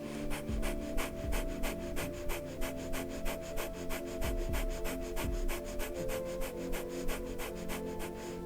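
Rapid, active rhythmic breathing during a morning yoga session, a steady run of quick panting breaths repeating about twice per second, close and continuous, with faint background music underneath.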